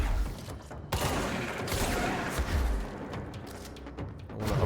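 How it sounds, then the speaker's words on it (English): Shotgun blasts and combat effects in the video game Control come as a few heavy booms with rumbling impacts, loud and close, with no talking. "Honestly, this shotgun does like the most work of anything in the game."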